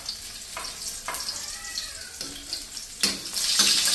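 Garlic hits hot oil in a pan for chopsuey, a close crackling sizzle with sharp spitting bursts that grows louder and denser toward the end.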